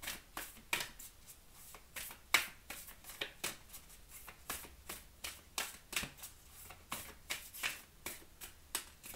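Oracle cards being shuffled by hand in a quiet room, a close, soft, rhythmic series of crisp riffling flutters repeating steadily for several seconds with no talking.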